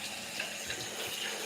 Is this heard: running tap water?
yes